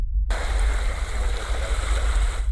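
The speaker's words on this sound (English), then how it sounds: "Waves ripple through at the Salton Sea" Water moves steadily at the Salton Sea, a continuous rushing wash of small waves rippling near the shore, loud and even throughout with no voices.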